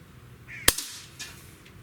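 Single sharp crack of a Umarex Notos PCP air rifle shot, loud and near, with a brief ringing tail and faint background hiss around it.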